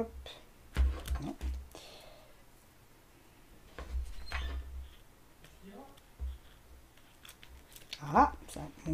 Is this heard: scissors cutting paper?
yes